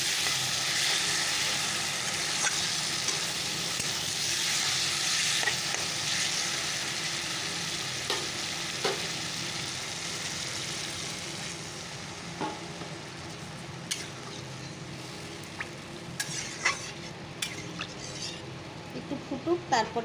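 Spices and gravy stirred and sizzling in a pan while a fish curry cooks, a steady broadband frying hiss with scattered scraping clicks of the spoon, close and continuous to the end.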